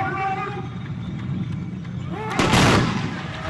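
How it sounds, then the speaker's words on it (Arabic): Tbourida horse riders fire a unified musket volley at a Moroccan equestrian gunpowder competition, a single loud blast near the end following a crowd hubbub and an excited announcer's voice. "طلقة موحدة، طلقة ممتازة."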